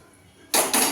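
A metal kadai is set down on a stove with a bright clanging knock, followed quickly by a second metallic scrape, close and loud after a brief near-silent pause.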